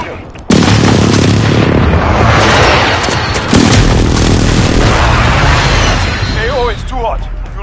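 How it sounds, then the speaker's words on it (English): Precision airstrike explosions in Call of Duty Modern Warfare: two very loud, close booming blasts, one right after the other, each followed by long rumbling debris and gunfire, with brief voice chatter near the end. "Enemy precision airstrike inbound"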